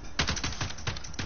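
Gunfire from a video game shooter, a few sharp shots cracking out in quick irregular succession, close and moderately loud with a faint rumble beneath.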